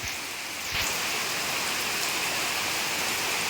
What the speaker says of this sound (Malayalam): ഈ മഴ കാണാൻ നല്ല രസമല്ലേ